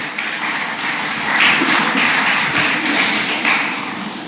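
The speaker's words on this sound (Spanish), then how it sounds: "¿Por qué no se dan un fuerte aplauso por haber venido a escuchar la palabra de Dios esta mañana?" A church congregation claps during a Sunday morning sermon, a dense, even patter of many hands with a few sharper taps standing out, sustained throughout.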